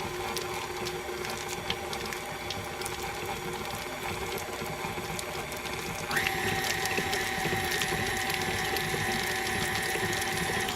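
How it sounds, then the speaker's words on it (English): A stand mixer churns cheddar cheese cracker dough with a steady mechanical whir and rattle that grows slightly louder and brighter partway through, with no talking. "now we're gonna mix this up just till it's combined a little bit"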